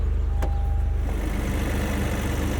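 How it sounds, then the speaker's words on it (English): A turbocharged three-cylinder engine in a 2023 Toyota GR Corolla idles steadily up close, a low, even throbbing pulse with a slightly uneven, lumpy character and no talking. "great little 3-cylinder turbo. This engine has so much character."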